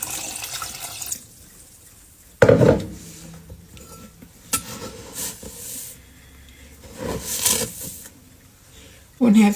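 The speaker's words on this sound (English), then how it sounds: "I'm going to add 2 cups of water." Two cups of water are poured over frozen blackberries, giving short splashing bursts between quieter stretches, close to the microphone and alongside a speaking voice.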